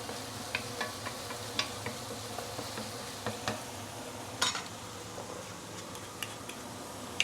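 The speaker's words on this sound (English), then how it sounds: "Let's try to separate all the minced meat, yeah?" Minced meat stir-fried and broken apart in a pan for a tofu stew, a soft continuous sizzle under scattered light scraping and tapping strokes, close but fairly quiet, no talk.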